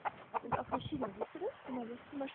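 Breeding chickens and a rooster cluck at a poultry farm in Brandenburg, a run of short, close clucks and calls with people talking under them.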